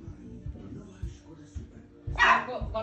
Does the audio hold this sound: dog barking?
yes